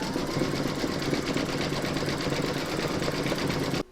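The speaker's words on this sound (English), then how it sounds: "you're now going to stitch round number 8, and that's going to do the satin stitch around the lighter circle" An embroidery machine sews a dense satin stitch around a circle on a coaster in the hoop, a loud, fast, even needle hammering close up that runs steadily and then stops abruptly.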